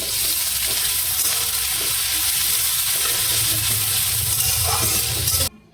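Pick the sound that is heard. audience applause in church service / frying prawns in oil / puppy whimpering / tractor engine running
frying prawns in oil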